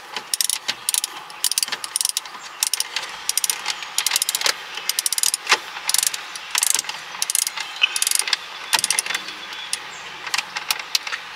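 A tripod mount being tightened gives a long run of quick, close ratcheting clicks and small mechanical rattles, steady and fairly loud throughout, with no talking.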